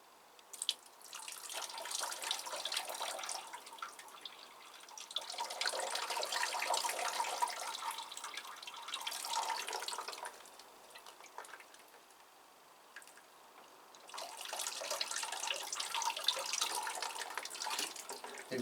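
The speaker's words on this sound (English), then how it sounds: "And then I'll give this a nice watering." A potted Paphiopedilum orchid is watered, heard as three separate stretches of close, splashing, trickling water pouring through the pot, separated by quieter pauses, with no talking.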